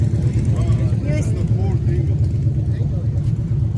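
A steady low engine drone from a 1948 English car fitted with a Volkswagen engine runs throughout, with a person talking over it.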